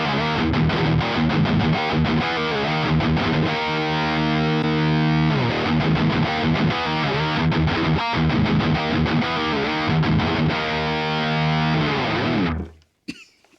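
An electric guitar plays through a Marshall JVM410HJS amp on red mode OD1 with all knobs at noon, giving loud, continuous, heavily distorted riffs of chugging chords and sustained notes that cut off abruptly at the end.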